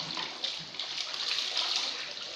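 Water pours steadily during a Chow Chow dog's bath at home, a continuous close splashing rush without breaks.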